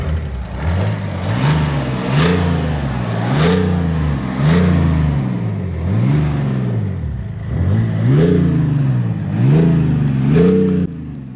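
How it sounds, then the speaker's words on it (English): A diesel car engine revs repeatedly, rising and falling in roughly regular bursts, loud and close with a throaty rumble and no talking. "The last thing about the engine is the sound, so I will let you hear some revs"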